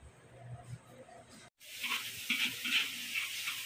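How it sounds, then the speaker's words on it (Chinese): Chopped vegetables hit a hot wok in a rural farmhouse kitchen: a quiet start, then an abrupt, loud burst of sizzling with stirring scrapes that crackles steadily to the end. "这是我切好的小菜，炒一下。"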